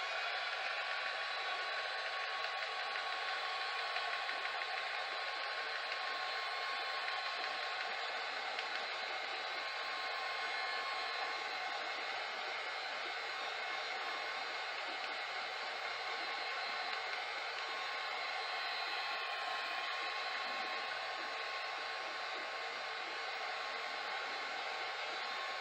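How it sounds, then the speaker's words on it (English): Heat tool blowing a constant, even rush of hot air over a patty paper mini envelope craft, with no speech. "I use my heat tool"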